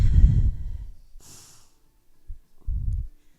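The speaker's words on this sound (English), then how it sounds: "Breathing." Breathing during a yoga class: a loud, close exhale at the start, then a soft airy breath in, and a short sniff followed by another heavy exhale near the end, with no talking.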